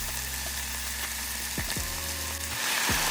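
Sausage and vegetables sizzle and crackle steadily as they sear in a hot pan, up close, with a few brief scraping stirs and no talking.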